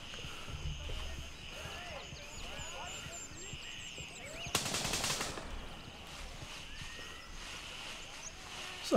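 Distant gunfire in the military shooter Gray Zone Warfare, one short burst of rapid shots standing out against quiet ambient noise and birdsong-like chirps.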